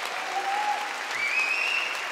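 A concert audience applauds, dense steady clapping throughout with a couple of whistles rising above it, fairly loud and unbroken.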